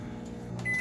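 A microwave oven hums steadily and then gives a single short, high electronic beep at the end, close by and fairly quiet, with no voices.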